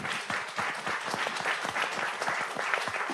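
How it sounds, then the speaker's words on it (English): Brief round of applause from an audience at a panel on Belarusian human rights, in support of political prisoners; fairly quiet, distant-sounding clapping with individual claps audible. "by giving him and all other political prisoners a round of applause"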